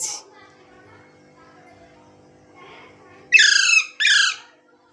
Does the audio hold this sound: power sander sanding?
no